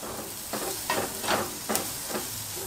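Onion frying in oil seasoned with ras el hanout for couscous, a soft steady sizzle with a few louder stirring swells spaced about half a second apart.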